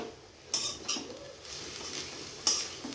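Drumstick leaves stir-fried in a pan over low heat with a little salt: a spatula scrapes and stirs steadily with a faint sizzle, marked by three sharp metallic clinks against the pan.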